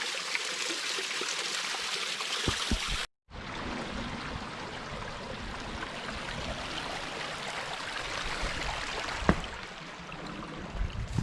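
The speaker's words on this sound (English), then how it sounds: "This is a cool little waterfall." Water rushes and splashes steadily over rocks at a small wilderness waterfall in the Wichita Mountains, a continuous close bright flow with one brief dropout partway through.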